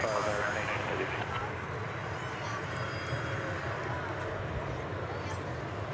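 A plane roars steadily at DFW Airport, a broad continuous engine rumble heard from a spotting position with no break across the clip, while a voice talks over it.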